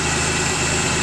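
A Nissan Hardbody truck engine idling steadily around 1,000 RPM, a loud continuous close-up rumble with no voices.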